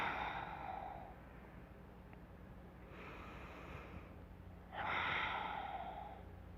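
Deep yoga breathing in a relaxed class setting: slow, airy inhales and exhales repeat at a steady calm pace, close and soft, over a quiet room hum with no speech.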